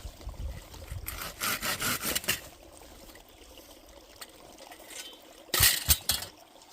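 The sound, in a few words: hand saw cutting wood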